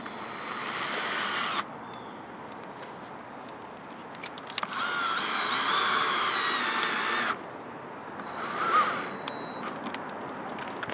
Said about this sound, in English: Alright, so we're putting in the second to last screw.